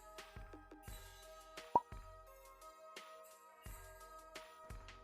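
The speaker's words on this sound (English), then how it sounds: "Break up the biscuits and then the Maltesers." Biscuits and Maltesers broken by hand and dropped into a pan for a Christmas treat, with a few light plops and crumbly taps spaced through the stretch and a single sharp tick partway in, close and fairly quiet.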